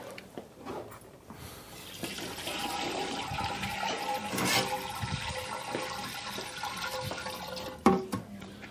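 Three quarts of water poured into a container for making Butterfinger cream ice, a steady gushing, splashing flow building over several seconds and ending with a brief splash, fairly close.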